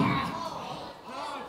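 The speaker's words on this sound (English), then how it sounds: "and slams center ring." A wrestler is body slammed onto the ring canvas at a CWA singles match, giving a quick heavy thud and slap of impact in an arena, under loud commentary and crowd noise.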